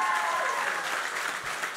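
Live podcast audience in a theatre hall breaking into a dense, steady wave of applause that fills the room for a couple of seconds, with no talk over it.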